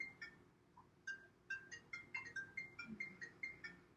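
A mobile phone ringtone goes off during an indoor yoga class, a repeated electronic chime pattern of short bright tones, fairly quiet and steady, with no talking over it.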